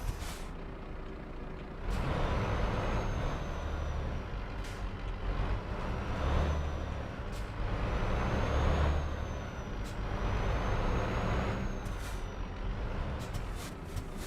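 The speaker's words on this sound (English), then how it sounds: "The truck sounds very loud in my ears." Heavy goods vehicle in Euro Truck Simulator 2, a continuous loud diesel engine drone punctuated by several sharp, hissing air-brake releases spaced every couple of seconds.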